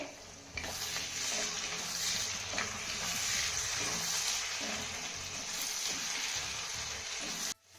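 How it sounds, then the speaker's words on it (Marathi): Cashews and melon seeds frying with onion in a pan, a steady broadband sizzle with occasional stirring scrapes that runs loud and continuous almost to the end, then cuts off abruptly. "आता हे काजू आणि मगज बी आपल्याला एक ते दोन मिनिटं चांगले परतून घ्यायचे"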